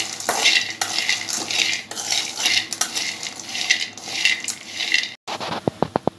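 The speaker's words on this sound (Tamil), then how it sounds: "இப்போ வந்து வடை சட்டியில் நம்ம கடலை வந்து நல்லா தோல் உரியிற அளவுக்கு நல்லா வறுத்து எடுத்துக்கலாம்" Peanuts are dry-roasted and stirred in a metal frying pan. A spoon scrapes and rattles busily against the pan, and the nuts skitter and clink in constant motion. A short gap follows, then a run of sharp metallic taps.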